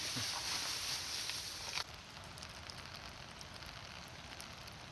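Rain falls on a rice field at harvest time, a loud steady hiss that suddenly drops partway through to a softer, quieter patter.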